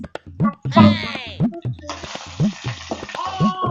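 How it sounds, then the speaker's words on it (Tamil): Oil sizzling and crackling as curry leaves drop into a hot pan after mustard seeds pop, a bright hiss that swells and lingers beneath a woman's speech. "கடுகு பொரிஞ்சோடனே இந்த மாதிரி கருவேப்பிலை அப்புறம் வச்சலை உள்ள போடுறேன்"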